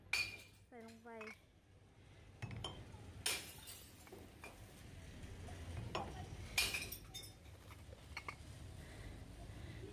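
Glass bottles dropped into recycling bins in a shopping mall, several sharp clinks and clattering knocks scattered over ten seconds. Someone talks quietly between them.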